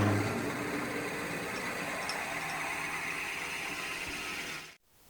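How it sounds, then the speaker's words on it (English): Steady whirring grind of a drill boring into wood with a 1 inch Forstner bit, a continuous even roar that runs unbroken for several seconds and then stops abruptly. "Jumping from 1/2 inch to a 1 inch Forstner bit"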